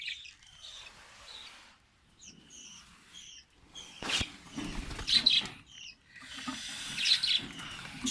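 Pet cockatiels give short, bright chirps and calls in scattered bursts over about eight seconds, fairly faint and close, with some rustling and a sharp knock midway.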